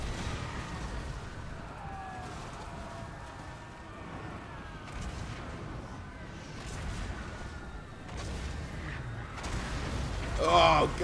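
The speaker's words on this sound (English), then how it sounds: "And then the mortars come to help us out as well." Distant mortar artillery fire in Total War: Warhammer during a siege of Miragliano, dull thuds and rumbles under a constant battle din, with a louder impact near the end; someone talks over it.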